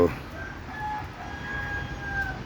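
Desi chickens in a shelter, with a rooster crowing in a long drawn call over steady ambient noise, fairly faint and at a moderate distance.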